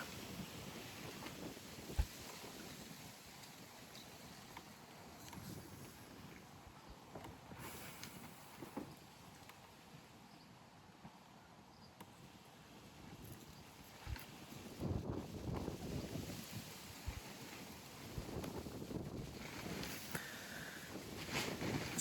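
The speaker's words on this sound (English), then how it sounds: "Getting a bit windy now." Steady outdoor wind rumbles and buffets a microphone, gusting louder in the second half, with a low roar and occasional thumps.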